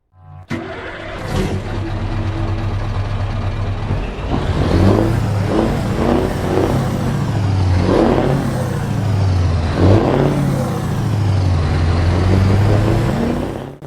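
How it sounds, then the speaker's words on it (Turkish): Truck engine in Euro Truck Simulator 2 cranking to life and then revving repeatedly, a loud, close, rumbling drone that rises and falls in several surges over a steady idle. "Heh, tırı bir çalıştıralım."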